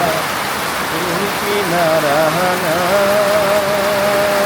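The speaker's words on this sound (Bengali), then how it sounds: "এইবার আর কি ফোঁটা ফোঁটা বৃষ্টি পড়তে শুরু করেছে" Steady rain hisses down on a river island in the Padma, with a voice talking over the downpour throughout.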